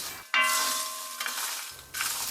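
Peanuts dry-roasting in a pan for a spicy peanut roast, stirred with loud scraping bursts and a ringing metallic clang at the start, then rustling that pauses briefly before resuming.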